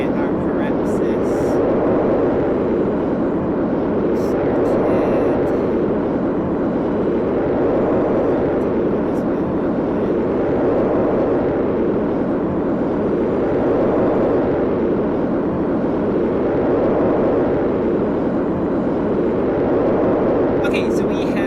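Steady rocket engine roar from a Kerbal Space Program craft throttling up in space, a dense continuous rumble with a slow pulsing swell, loud and unbroken for the whole stretch.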